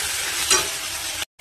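Ingredients for pasta fry in a pan, a dense close sizzle holding steady with a brief stirring scrape midway before cutting off abruptly.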